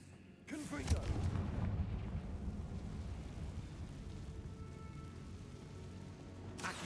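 Confringo fire spell blast in Hogwarts Legacy, with a sudden whooshing burst followed by a long rumbling roar that slowly fades, loud and close, ending with a sharp hiss.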